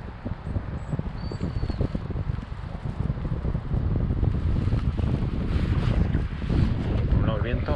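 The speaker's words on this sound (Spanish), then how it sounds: "El viento." Steady, loud wind gusting outdoors at a fly-fishing spot, rumbling and buffeting the microphone throughout with no break, rising slightly in strength halfway through; a voice is faintly present beneath the roar.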